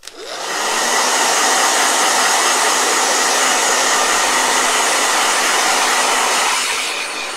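Blow dryer running continuously at high power, a loud steady whooshing hiss that starts abruptly, holds nearly unchanged for about seven seconds, and tapers slightly at the end, with no talking.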